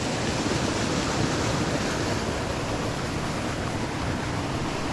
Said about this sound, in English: Yeah, that's just the waterfall right there.